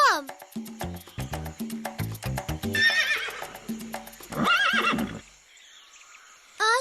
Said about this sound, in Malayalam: ആ ശബ്ദം ഏത് മൃഗത്തിൻ്റെതായിരിക്കും? കുതിരയുടെയോ?